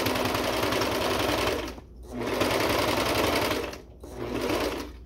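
A sewing machine fitted with a binding attachment stitches binding onto fabric, running loud and fast in three sustained bursts separated by brief stops.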